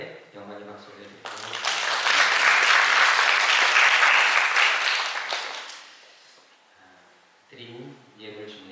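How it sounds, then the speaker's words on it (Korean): A church congregation at a Sunday morning worship service bursts into warm, sustained applause that swells for several seconds and then fades, with someone speaking before and after it. "우리 하나님 앞에 영광의 박수 올려드리고"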